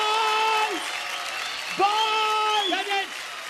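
Audience applause at a dance battle show rumbles beneath loud, drawn-out shouted chanting from a voice in the crowd, the clapping steady and secondary to the yelling.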